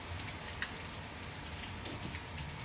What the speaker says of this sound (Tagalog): Basang-basa sa ulan.